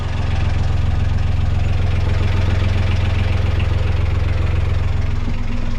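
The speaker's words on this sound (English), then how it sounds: "we managed to get the engine going" A sailboat's engine running on a bypassed, jury-rigged fuel system, a steady loud idle with a low throbbing drone and faint knocking, alone with no talk.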